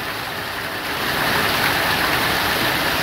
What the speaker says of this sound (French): le rideau de grêle